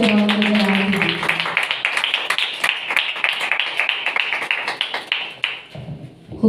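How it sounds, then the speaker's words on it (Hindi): A church congregation claps loudly, a dense run of overlapping handclaps at an even, steady pace that thins and fades toward the end, with some voices in the background. "जोर से तालियां बजाएंगे खुदावंद के कलाम के लिए।"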